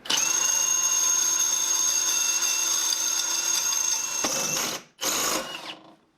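A power drill bores out a rivet on a bent snowmobile tunnel bracket, whining steadily and loud up close for about four seconds, then cutting out briefly before a short final burst that winds down.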